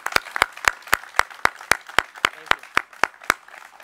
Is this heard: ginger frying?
no